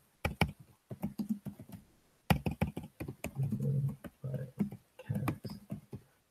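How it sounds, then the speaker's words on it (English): Notes are typed on a computer keyboard in a quiet room: close, irregular bursts of soft key taps with short pauses between runs, and a voice talking faintly under part of the typing. "So I'll just start typing notes."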